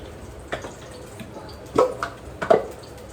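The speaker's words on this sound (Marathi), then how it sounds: "थोडंसं पाणी टाकून मिक्स करून घ्यायचं." Small splashes and drips of water go into a ground peanut mixture with black chilli powder, turmeric and salt, a few soft separate pours and plops close by with quiet pauses between.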